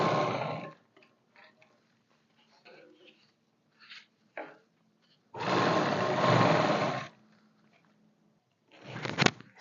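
A sewing machine stitching a skirt seam gives two short bursts of steady close whirring, one lasting about two seconds mid-way and a brief one at the end, separated by quiet stretches with someone talking.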